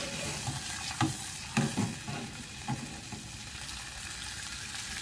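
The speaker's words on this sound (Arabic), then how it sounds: "انا هنا درت معلقه ونص ديال الزبده، نديرو هاد الذوب" About one and a half spoonfuls of butter melts in a casserole pan, hissing in a steady sizzle with a few soft scrapes and taps of a spoon over it, close and alone.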